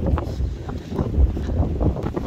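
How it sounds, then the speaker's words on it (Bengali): Strong cold wind at a seashore boat ramp in Bahrain, buffeting the microphone in steady low gusts with a faint wash of water and boats nearby, no talk. "সাগর পাড়ে হাওয়া ঠান্ডা, কাঁপানি উঠে গেছে রে, বহুত হাওয়া"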